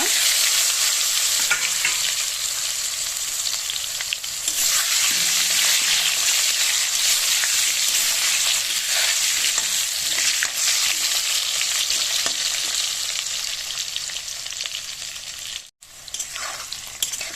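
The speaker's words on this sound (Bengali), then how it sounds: "আলুটা হালকা ভাজা হয়েছে" Potato pieces fry with black cumin in a wok, giving a strong continuous sizzle broken by occasional scraping stirs, then a brief sudden cut in sound before the frying resumes.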